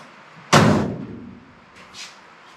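Door of a 1934 Ford panel truck slammed shut once, a loud close heavy thud that rings and decays over about a second, followed by a faint rustle.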